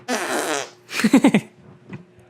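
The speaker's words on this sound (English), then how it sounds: "I can do armpit farts." An armpit fart made by a man squeezing his arm against his armpit, several short wet squelching bursts with brief pauses between them, fairly close and loud with no talking over it.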